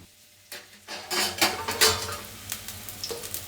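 Onions fry and get stirred in oil in a pan, with a soft sizzle under repeated scraping and clattering strokes of a spoon against the metal, several sharp knocks spaced unevenly and close by.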